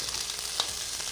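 Butter sizzles in a pan while samba rava jaggery kesari is being made: a steady, soft frying hiss with one brief louder crackle midway, close but quiet, and no talking.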